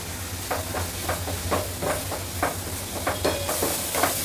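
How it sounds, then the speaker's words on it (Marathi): Pav bhaji masala roasts in a pan with a soft, steady sizzle. Irregular scraping and stirring strokes rise above it at close range. "मसाला चांगला भाजून होऊ द्या"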